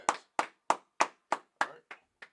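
Audience clapping in a hall during a Wednesday night class, eight sharp, evenly spaced claps that fade slightly toward the end, heard alone and fairly close.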